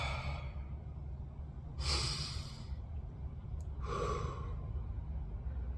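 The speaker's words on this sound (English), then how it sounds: "Take a deep breath." Slow deep breathing during a guided breathing exercise, close to the mic: a breath out at the start, then two long breaths, one in and one out, with a quiet hum underneath.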